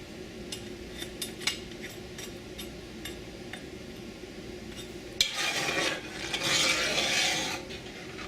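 Mulberries for a pie filling are mashed in a pot, giving soft squelching and scraping strokes that start faint and grow louder and denser toward the end.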